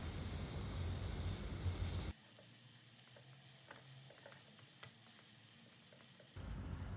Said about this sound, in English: We will now mix all these spices well along with the veggies so that they are well combined